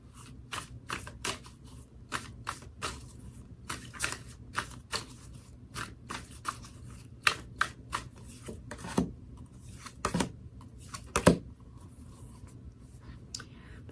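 Tarot cards are shuffled softly and close by, making a quiet run of irregular papery riffles and slaps with no talking.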